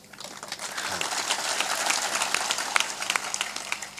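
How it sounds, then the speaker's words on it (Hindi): Weak audience clapping at a spiritual discourse in Chhindwara, a thin crowd applause that swells and then fades, with scattered individual claps standing out toward the end, no talking. "इतनी कमजोर तालियां ये छिंदवाड़ा में कैसे बज रही हैं बताओ"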